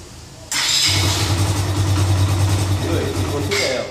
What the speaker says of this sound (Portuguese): Vou ligar a